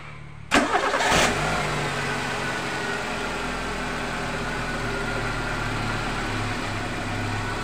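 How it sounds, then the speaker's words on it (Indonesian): A 1997 Suzuki Baleno's engine cranks briefly and catches, then settles into a steady, close idle hum that continues evenly to the end with no voices. "kita coba starter dulu"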